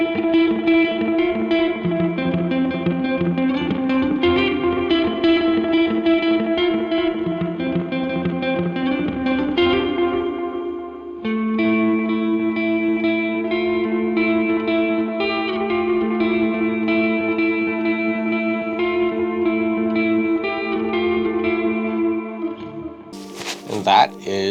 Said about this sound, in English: that is Caverns. Very nice dual reverb delay.